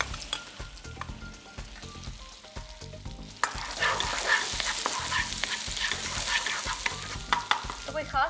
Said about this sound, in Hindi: एज यूजुअल जो छौंका हम लगाते हैं, जीरा, सबसे पहले जीरा हमने डाला।